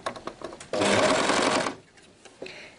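An overlock serger stitching fabric onto elastic for a tiered skirt runs in a steady loud whir for about a second, with light handling clicks and taps before and after.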